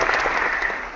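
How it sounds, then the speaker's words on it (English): A fake applause sound effect plays as a brief burst of canned clapping, lasting about a second and fading slightly at the end. "we're back to the fake applause"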